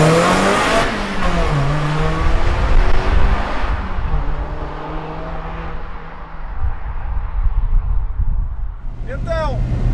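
A Lotus Elise Sport 220 pulling away with its engine revving up through rising sweeps then easing off, loud and close, with a quick burst of revs near the end and brief talk underneath.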